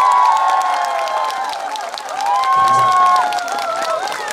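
Steady applause from a concert audience at an outdoor park ceremony, dense clapping mixed with a few cheers and crowd voices, holding strong throughout.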